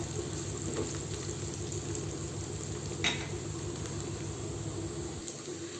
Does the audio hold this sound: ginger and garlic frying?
yes